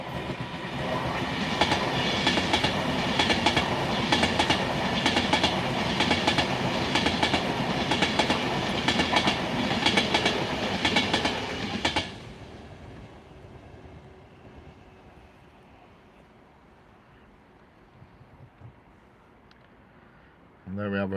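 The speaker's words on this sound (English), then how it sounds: "where we have a relatively slow moving pendolino" A Pendolino train rolls past slowly and loudly, with rhythmic clickety-clack from its wheels for about twelve seconds before fading to faint rumble and quiet background.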